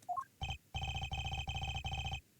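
A telephone rings in the Apollo Justice: Ace Attorney video game after a short rising chime: four clear electronic ring bursts in steady rhythm, near and alone, with no talking.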